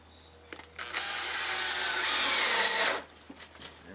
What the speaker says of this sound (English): I'll finish putting the screws in these